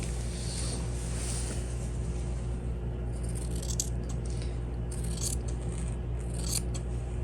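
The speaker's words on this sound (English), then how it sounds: "When you do cutting, make sure you move the fabric, not your hand twisting around" Scissors snipping through fabric scraps while shapes are cut out for a no-sew fabric star, a soft steady crunching and shearing close by under a constant background hum, with a few sharper snips and no voices.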